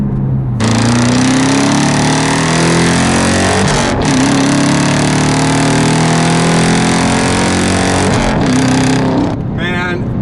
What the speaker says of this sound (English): you just cannot beat a proper V8 in a car like this